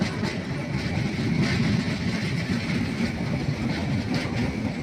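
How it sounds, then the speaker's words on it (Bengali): The Dolanchapa Express runs steadily, giving a continuous loud rumble and rhythmic rail clatter heard from close by, with no talk over it. "দেখতে পাচ্ছেন আমাদের দোলনচাপা এক্সপ্রেসটি ঝিঝি ঝিঝি শব্দে দৌড়াচ্ছে আর কি।"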